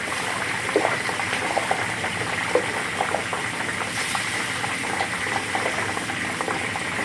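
Steady bubbling crackle of tofu deep frying in hot oil in a wok, continuous and close, with small pops scattered throughout and no voices.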